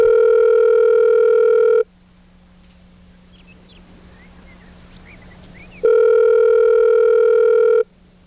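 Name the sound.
telephone dial tone and dialing a call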